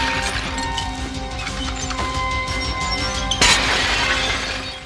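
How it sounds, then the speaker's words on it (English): Window glass crashes and shatters in a film scene: one sharp, loud burst of breaking glass cuts in near the end over a steady, dense background. "When the window glass comes down on him."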